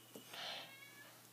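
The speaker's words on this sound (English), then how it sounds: "I hear you, kitty." A house cat meows once, a drawn-out, fairly close call rising and falling over about half a second, then quiet room tone with faint high tones.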